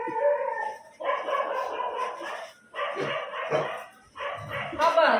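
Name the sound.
street dogs barking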